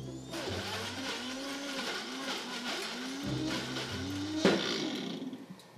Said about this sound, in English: now let's turn on the blender and make some delicious fig pudding.